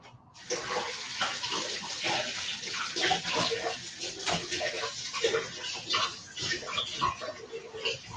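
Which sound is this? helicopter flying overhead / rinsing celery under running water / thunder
rinsing celery under running water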